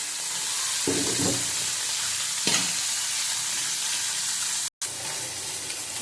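Parshe fish going into a simmering curry with eggplant, ginger and cumin paste, giving a steady loud sizzle and frying hiss with a couple of stirring scrapes and a brief cutout near the end, with no talking.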